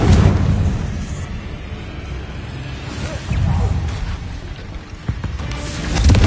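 A Confringo blast spell explodes in the video game Hogwarts Legacy, a booming low rumble and crackling burst amid continuous game ambience and voices, swelling again near the end.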